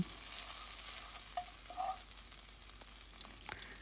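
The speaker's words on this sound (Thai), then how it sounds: "พอน้ำมันร้อนเราก็เอาพริกกระเทียมลงไปผัดให้หอม" Chili and garlic stir-fry in hot olive oil, giving a faint, steady sizzle with occasional light spatters and soft stirring scrapes, no voices.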